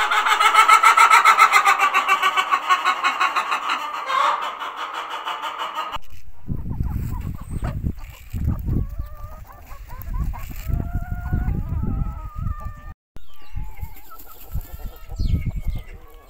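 Farm chickens cluck repeatedly in a dense, loud chorus, then a rooster crows and scattered clucks and calls follow at close range, with the clucking rising and falling in bursts and no speech.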